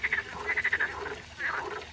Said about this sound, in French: Elle en fait bien du bruit, elle. Elle est où la grenouille?